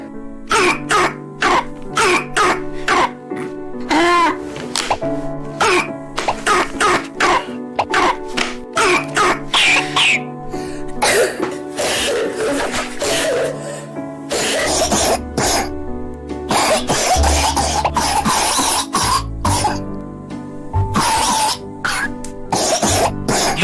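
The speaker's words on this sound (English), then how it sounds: "Different cough types in kids." Children coughing in a rapid series of harsh, loud coughs and throat clearing, repeated bursts close up with music playing underneath.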